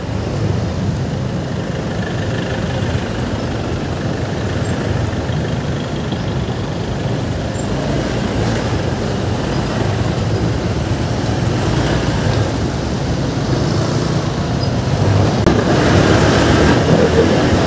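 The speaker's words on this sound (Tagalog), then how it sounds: "Ba't ganito ka-traffic dito?" Heavy road traffic with trucks and buses backs up at an airport off-ramp under rehabilitation, a dense continuous rumble of engines and tyres that swells slightly near the end.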